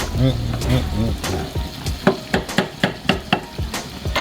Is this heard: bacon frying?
yes